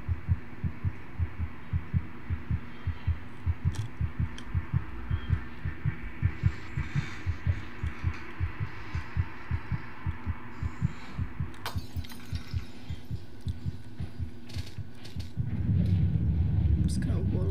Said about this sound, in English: My heart beating.